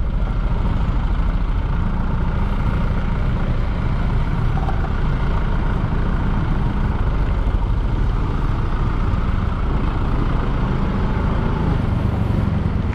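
Steady broadband traffic noise fills a jammed road at a red light, with car and truck engines idling nearby, heard from a Suzuki Smash 110 motorbike rider's position; the low rumble runs continuously without a break.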